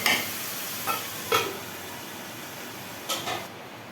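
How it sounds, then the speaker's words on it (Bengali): A lid is set on a pot of chicken kosa cooking in spiced water, giving a few light metallic clinks and scrapes over a steady background sizzle. "এখন একটু ঢাকনা দিয়ে দিচ্ছি"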